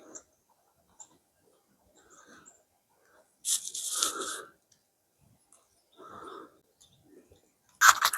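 Scattered bird calls: a few short, harsh squawks and chirps separated by quiet gaps, close by.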